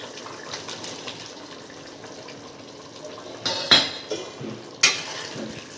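Fried prawns dropped into a boiling fish curry in a home kitchen, a low simmering bubble broken by a few sharp splashes and clinks of a spoon against the pan, with no talking.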